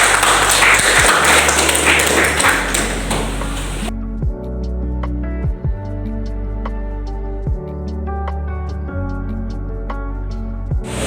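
A grade XI class applauds together: a few seconds of brisk, washy clapping stop abruptly, and steady tonal music with a low hum follows.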